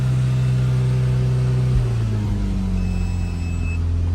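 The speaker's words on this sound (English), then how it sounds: "I am just gonna hold the revs." An Audi TT Mk1 engine held at high revs, a steady high idle with continuous droning rumble and a slight shift in pitch midway, close and loud with no talking.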